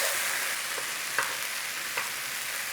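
Mushrooms sizzling steadily in a pan as they brown, a constant close frying hiss with a couple of faint stirring clicks, no voices.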